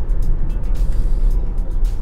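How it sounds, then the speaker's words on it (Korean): Tesla Model 3 electric car at full throttle during sporty driving, a dense low rumble of road and motor noise inside the cabin, steady and loud throughout. "가속을 하면요, 이게 귀가 좀 멍해질 정도로 확 치고 나갑니다"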